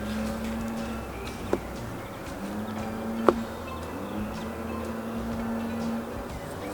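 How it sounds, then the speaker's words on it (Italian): Honeybees in a hive give a low, steady hum after two sharp knocks on the box, the drone swelling faintly and holding at a soft, even level. "proviamo a dare un colpo per vedere se sentiamo il ronzio"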